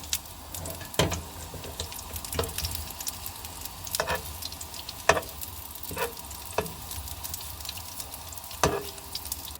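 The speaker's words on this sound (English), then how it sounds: "Fry in the fat for about 10 minutes until cooked through and golden brown on both sides." Food fries in fat in a pan for a wartime British ration meal, giving a soft, continuous sizzle broken by several sharp clatters and stirring clicks at irregular intervals, close and fairly quiet.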